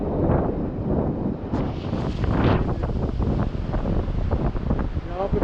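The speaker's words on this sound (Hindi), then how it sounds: "पानी का तेज बहाव।" Strong, fast-flowing river water in the Harsil valley in the Himalayas, a loud steady broadband roar with gusts of wind buffeting the microphone throughout.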